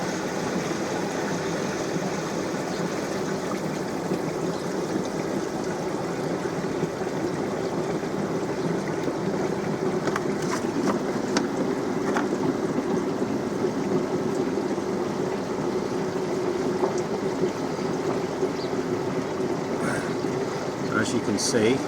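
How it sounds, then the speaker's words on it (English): Water drains from a DIY koi pond filter through an opened waste valve, a steady broadband rush that holds level throughout with no pauses. "just pulled the waste valve. We'll let it drain down."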